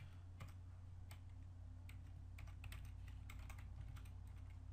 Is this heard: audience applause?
no